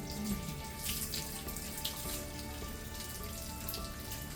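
Water trickles and patters softly as a plant cutting set in moss is watered, a faint, close, continuous splashing with light drips and no voices.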